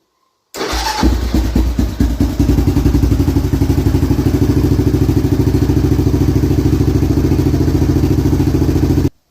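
A Kawasaki KLR650 motorcycle with a fuel-overflowing carburetor, recently cleaned and fitted with a kit, cranks briefly and fires up, then settles into a loud, steady single-cylinder idle thumping evenly up close until it cuts off.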